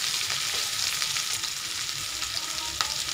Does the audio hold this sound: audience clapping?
no